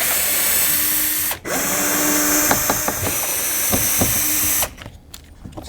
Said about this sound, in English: let's get a screwdriver on it